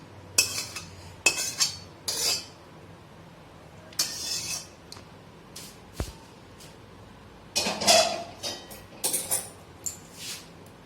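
A metal spatula scrapes and clinks against a wok as the last of a prawn malai curry is cleared out, giving scattered short scraping strokes and taps with pauses between them, close and moderately loud.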